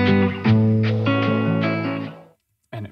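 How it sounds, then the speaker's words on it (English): Music track with distorted, effects-laden tones, edited in Logic Pro, plays briefly before a short fade drops it to silence around two seconds; a faint burst of sound follows at the end. "And it fades out nicely."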